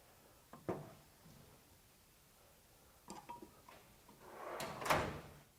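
Drawer of a GEARWRENCH 41-inch GSX Series 11-drawer tool box cabinet sliding open and shut, metallic rolling rumbles with sharp clacks at each stop, close by in a quiet room.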